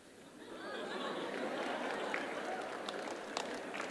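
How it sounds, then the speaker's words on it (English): Clapping from a mix of teachers and students in a college audience at an interview event, a broad steady wash of applause with crowd chatter mixed in, moderately distant and sustained throughout. "Now, on this one, the teachers are clapping more than the students."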